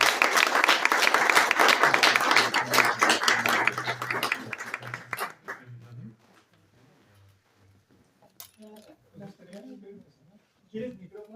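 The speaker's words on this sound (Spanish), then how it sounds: "pido un fuerte aplauso" Audience applause at a Haiku retreat, loud dense clapping for the first few seconds that thins out and fades, followed by quieter talk and scattered small sounds.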